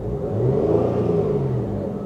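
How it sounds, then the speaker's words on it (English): A Rover 75 Connoisseur engine revved from idle, a steady close-up rumble that swells briefly and then settles back, smooth with no sharp peaks. "The car idles beautifully. I'm going to give it a rev for you."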